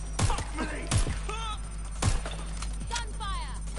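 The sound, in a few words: gunfire in the video game Watch Dogs: Legion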